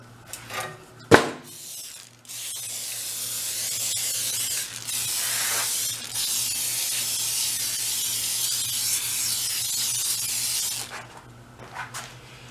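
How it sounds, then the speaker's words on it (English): A busted log splitter rescued from under a collapsed barn gets a long, steady hiss of spray chain lube, loud and close, lasting most of the clip after a couple of sharp knocks at the start. "This is like a spray chain lube."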